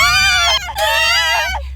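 A sustained, loud high-pitched scream rises and wavers over roughly two seconds, breaking briefly before resuming, with a steady low hum underneath and no speech.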